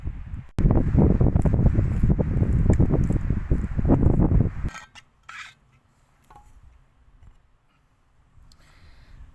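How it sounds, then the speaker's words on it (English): Wind gusts through trees in a Cornwall forest, a loud rushing, buffeting roar for several seconds that suddenly drops away to near stillness, leaving only faint rustles and soft movement. "You can still hear the wind, but it's nowhere near as bad."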